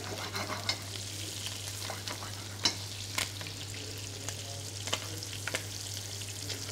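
Pieces of food frying gently in a pan over a low gas flame, a soft continuous sizzle with small pops and stirring clicks over a constant low hum, fairly quiet and without talk.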